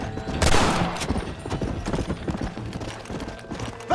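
Horse hooves gallop in Red Dead Redemption, a rapid, loud, close clip-clop rhythm that runs steadily throughout with a brief creak at the end.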